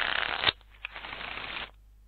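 A deck of 32 cards is shuffled in a digital card game: a dense half-second riffling burst, then a longer, softer shuffling rustle lasting about a second before it stops.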